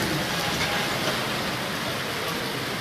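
Heavy monsoon downpour with strong wind, a dense, even hiss of rain on surfaces holding steady and loud throughout, with no voices over it.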